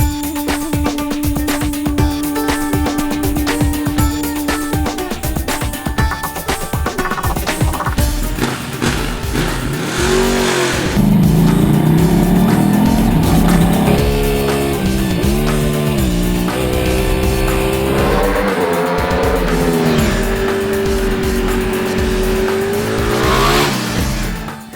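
A 2012 Ducati 1199 Panigale S superbike on the Yas Marina race circuit in Abu Dhabi holds a loud, continuous high-revving engine whine that rises and falls through gear changes, with wind roar heavy toward the end.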